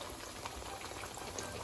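Tortillas for ground turkey enchiladas frying in a pan, a dense close sizzle and crackle of hot oil that holds steady throughout the short moment.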